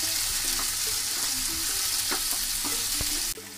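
Mint leaves sautéing in a pan while cooking biryani rice: a steady loud sizzle and frying hiss throughout, with occasional scrapes and stirs of a spoon against the pan.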